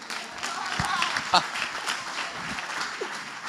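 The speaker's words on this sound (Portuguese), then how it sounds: "Dá uma salva de palmas para Jesus aí." A church congregation on its feet gives a round of applause for Jesus during a lively service, with dense, sustained clapping mixed with voices and shouts throughout.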